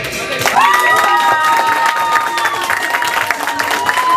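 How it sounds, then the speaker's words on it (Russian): An audience in a karaoke bar applauds and cheers during a dating show, with clapping and crowd shouts throughout while a tonal musical sting or whistle-like tones ring above the noise. "Аплодисменты Дарине!"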